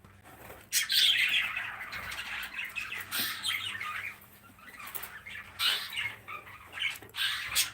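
Cockatiels squawk and chatter in a home aviary, with bursts of harsh calls and a flutter of wings rising and fading over several seconds, close and fairly loud, with no talking.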